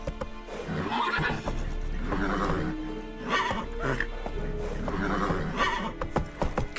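Roach the horse in The Witcher 3 gallops with rapid, rhythmic hoofbeats and lets out repeated loud neighs and whinnies, all close and prominent with no talking.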